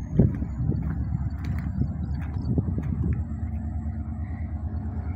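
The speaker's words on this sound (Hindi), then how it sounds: "82 सीरीज के इंजन की स्पेशल आवाज़ है जब वो एक्सेलरेट करता है" An HGMU 30 82-series diesel locomotive hauls an empty coal freight rake, giving a low throbbing engine rumble with irregular mechanical knocks and clatter, fairly close and steady throughout.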